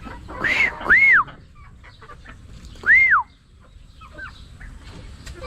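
Darag chickens kept as breeder layers call out twice in clear, rising-then-falling cries, close and fairly loud, with quieter clucks and faint rustling between them outdoors.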